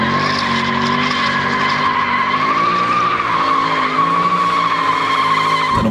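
Tires squeal continuously and loudly as a compact power sedan is thrown around a track, a sustained high-pitched screech with engine roar beneath and no voices.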